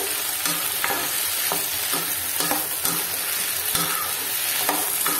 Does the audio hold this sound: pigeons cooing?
no